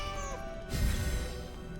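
A single cat meow in a video game rises over a steady electronic background hum.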